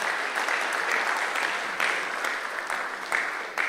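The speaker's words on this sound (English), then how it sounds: "I thought that deserved a clap." Audience at a mentorship session applauding, a soft, fairly distant wash of clapping that swells slightly in waves and carries on steadily without talk.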